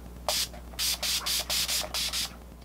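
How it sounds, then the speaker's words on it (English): Skindinavia Makeup Setting Spray and Urban Decay All Nighter Setting Spray are misted onto a face in about eight quick rhythmic pump spritzes, close and crisp, with no talking. "we're gonna be using a cocktail of the Skindinavia Makeup Setting Spray and the All Nighter Setting Spray from Urban Decay"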